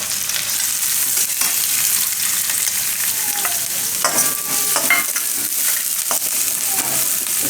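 Onion fries in oil with garlic for a lasagna filling, a strong continuous sizzle close by, with repeated scraping and clinking as a spoon stirs the pan.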